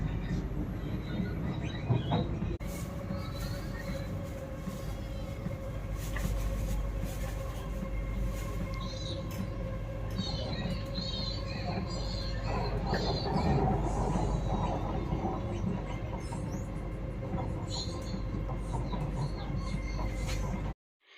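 Singapore Circle Line metro train in motion, heard from inside the carriage as a steady rumbling roar with faint rattles and a sustained hum, ending in an abrupt cutoff.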